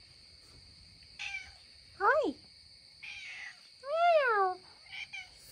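A small adopted cat meows several times, rising and falling cries close by, with a steady high electronic whine behind them and a brief spoken greeting from a person.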